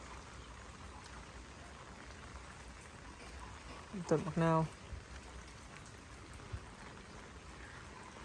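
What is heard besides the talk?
heavy rain falling on a garden house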